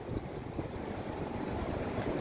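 Strong wind buffets the microphone outside the Bangkok temple of The Church of Jesus Christ of Latter-day Saints, a constant low roar and rumble, steady throughout with no other sounds.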